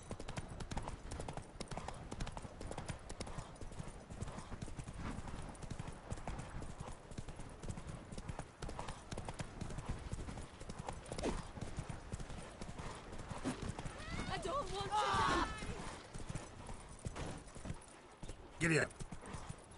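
Geralt's horse Roach clip-clops steadily in a Witcher video game, a continuous rhythmic patter of hooves over ambient game sound, with a brief louder burst near the end.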